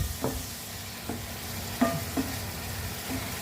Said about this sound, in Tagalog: Haluin na po natin yan